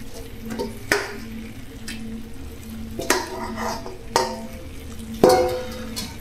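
Chicken for Georgian chakhokhbili cooking in a pot, a low simmering hiss with a sustained hum beneath, punctuated by repeated utensil clanks and scrapes against the pot at irregular intervals.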